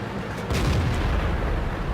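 A tank cannon fires in the World of Tanks video game, one loud booming shot with a low rumbling tail that lingers to the end.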